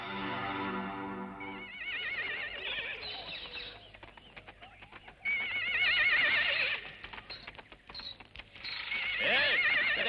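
A horse whinnies loudly, its wavering neighs rising and falling up close, repeated several times between clattering hoof clops and stamping, with a shrill tremolo call returning at the end.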